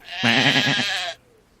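A human voice imitates a sheep with one wavering, nasal bleat lasting about a second, loud and close, followed by quiet.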